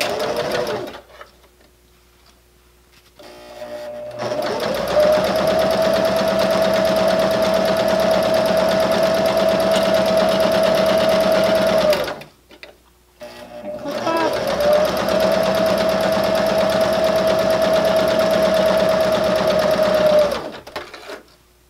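A sewing machine stitches a fabric wristlet keychain in two long, steady runs of about eight seconds each, with a brief pause between them, a high constant whir close up and no talking.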